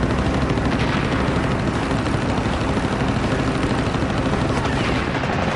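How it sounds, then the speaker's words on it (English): Japanese Oscar fighter plane firing its machine guns in a dogfight with a P-40, a dense, continuous roar of rapid gunfire and engine noise that stays loud and steady throughout. "From 200 feet away, the Japanese plane fires."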